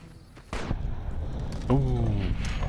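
A sharp gunshot from the companion Boone firing in Fallout: New Vegas, one loud crack near the start over a steady game background, followed by a voice.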